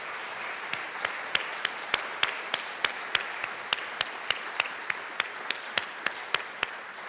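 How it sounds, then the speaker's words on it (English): Legislators in the Colorado House chamber applaud steadily, a dense wash of clapping with sharp, evenly spaced louder claps punctuating it throughout, moderately loud and free of talk. "A round of applause"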